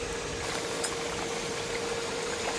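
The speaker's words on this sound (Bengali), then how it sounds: "কি সুন্দর বক বক করে ফুটছে না?" A pot of Bengali pabda fish curry bubbles at a steady boil, a continuous close burble and hiss with soft popping, heard alone with no voices.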